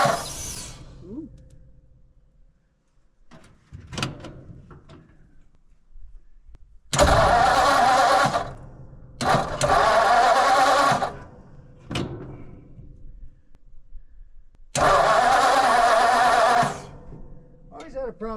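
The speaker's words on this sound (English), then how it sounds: "Always had a problem starting this truck." A 1947 Ford truck with a history of hard starting cranks in three long, loud bursts, its engine churning close by, with people talking in the pauses between attempts.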